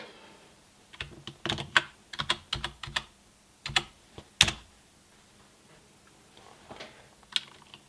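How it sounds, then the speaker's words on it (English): Keys clatter on a computer keyboard as an address is entered on an 8-bit Commodore 64 setup, quick bursts of close, crisp taps separated by short pauses in an otherwise quiet room. "I type in the start address."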